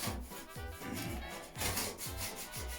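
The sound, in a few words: wiping and cleaning around a joint before applying silicone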